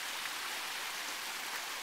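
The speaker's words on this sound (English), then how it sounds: "Look, guys. Waterfall." A small backyard pond waterfall splashes in a steady, hissing wash of falling water, close and fairly faint, with no voices.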